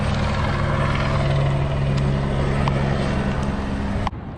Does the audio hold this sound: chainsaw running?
no